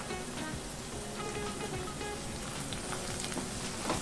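Soaked dried ribbon fish frying in oil with onions, a soft, steady crackling sizzle with faint stirring, fairly quiet and continuous.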